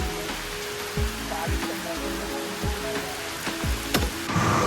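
Rain patters steadily on a surface near Kashid Beach, with sharp drips and knocks breaking through the continuous wash of falling water.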